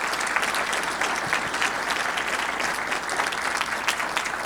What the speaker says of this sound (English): Let's give these leaders a round of applause